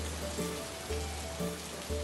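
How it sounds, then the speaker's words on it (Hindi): Heavy torrential rain pours down at night over Patna and the surrounding villages, a quiet, steady hiss with a low rumbling hum beneath it and no voices. "उसी रात पटना शहर और उसके आसपास के गांव में अचानक भयानक मूसलाधार बारिश शुरू हो गई।"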